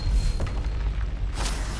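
A Confringo fire-blast spell explodes in the video game Hogwarts Legacy, a loud, deep boom that rumbles steadily with a second bright burst near the end, heard alone without speech.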